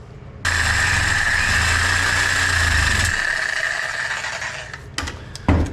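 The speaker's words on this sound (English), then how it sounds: "And I resorted to the Sawzall." Sawzall reciprocating saw cutting metal tubing for a homemade kayak cart, a steady loud buzzing drone that runs for about three seconds, then thins out and stops, followed by a few clanks of metal.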